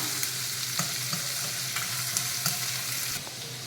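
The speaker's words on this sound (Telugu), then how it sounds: "ఆనియన్స్ వేసిన తర్వాత కొంచెం మీడియం ఫ్లేమ్ పెట్టుకొని మగ్గనిద్దాం." Onions frying in a pan over a medium flame sizzle in a steady, close, continuous hiss, with faint stirring scrapes popping up every half second or so.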